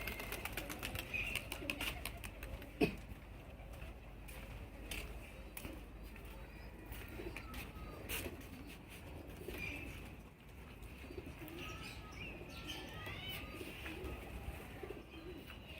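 Pigeons coo softly on a rooftop, low murmuring calls with occasional chirps and a flutter of wings, faint and somewhat distant.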